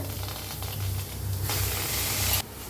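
Cluster beans (guar) roasting in a hot kadai on a gas stove, giving a steady hissing sizzle with a stronger burst of spitting toward the end, close and constant with no talking.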